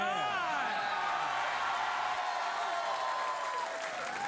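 Late-night talk show studio audience on a Friday night applauding and cheering, a steady loud wash of clapping with whoops throughout.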